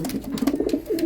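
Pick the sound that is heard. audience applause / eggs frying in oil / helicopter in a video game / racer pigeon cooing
racer pigeon cooing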